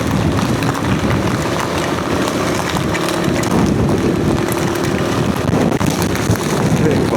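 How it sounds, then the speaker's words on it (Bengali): Strong gusty wind buffeting a motorbike while riding on a mountain road in Nepal, a loud continuous roar of wind against the microphone with engine rumble underneath, no distinct talk. "বাপরে, জোরে হাওয়া পাচ্ছে, দমকা হাওয়া। এই বাইক নাড়িয়ে দিচ্ছে।"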